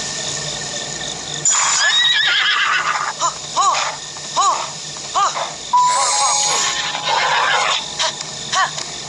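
A horse whinnies several times in quick bursts, loud and close, over a faint electronic game hum, with hoofbeats between calls, in The Legend of Zelda: Breath of the Wild on Nintendo Switch.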